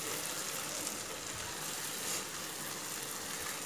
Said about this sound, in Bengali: এটাকে ভালো করে একটু ভেজে নেব।